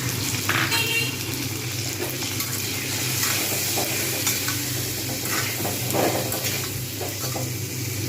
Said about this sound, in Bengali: টমেটোগুলোকে ততক্ষণ ভাজবো যতক্ষণ পর্যন্ত না এটা পুরো গলে যাচ্ছে, একদম এর সঙ্গে গলে যাবে।